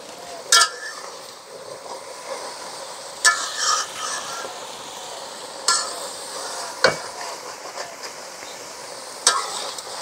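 Khalshe fish curry with fresh radish and spinach being stirred in a pot, scraping clinks and spoon knocks recurring every few seconds over a faint steady simmer, with no talking.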